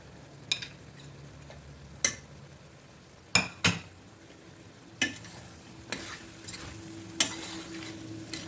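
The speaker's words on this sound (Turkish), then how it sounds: "Biraz da tereyağıyla kavrulsun etimiz." Meat browning in butter in a pan, a steady soft sizzle broken by occasional sharp clinks and scrapes of a utensil against the pan, no voices.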